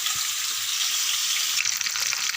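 Rice is stirred in a hot pan with sizzling oil before tuna fish is fried, a constant bright frying hiss with soft scraping stirs and faint clinks underneath, close by and with no voices.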